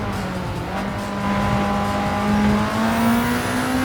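Race car engine in Gran Turismo, a steady droning whine climbing in pitch through the gears, with a brief dip at a shift and a smooth rise again, loud and close with no talk.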